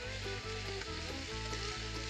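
Fish fries over a lakeside campfire with a constant, dense sizzle and crackle, close and fairly quiet, with no voices.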